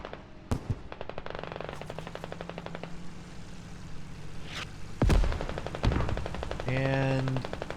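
Leopard tank firing in the video game Squad amid a battle, with rapid bursts of automatic fire and heavy single cannon blasts, plus engine rumble and a voice speaking over the combat.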